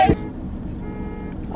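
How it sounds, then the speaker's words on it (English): A short car horn toot sounds at the very start while the car is parked, followed by a steady low rumble of traffic and vehicle noise, with faint voices in the background. "I thought someone honking at us"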